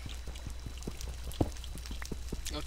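Water flows in the Minecraft video game as a soft, steady trickling and pouring with small splashy droplet sounds. A low hum sits underneath the water.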